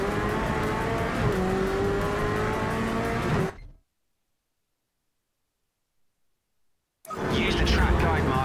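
Race car engine in Project CARS 3 revving hard under full throttle, loud and close with faint tire squeal, cutting to silence midway before the engine roars back.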